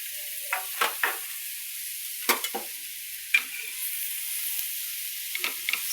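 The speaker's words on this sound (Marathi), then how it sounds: "आता आपल्याला हे फ्राय करायचं. मस्त कडक होऊ द्यायचं बघा." Food frying in a pan until crisp, a constant sizzle with scattered clinks and scrapes of a spatula against the pan, close and moderately loud, with no voices.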